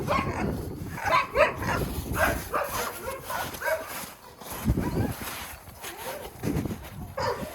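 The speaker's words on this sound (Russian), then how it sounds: "Ну, щенятки." Puppies barking and yipping in short bursts with occasional whimpers, fairly close and steady throughout, with some background noise.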